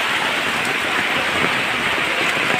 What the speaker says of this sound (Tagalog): Nabit na tayo ng malakas na ulan.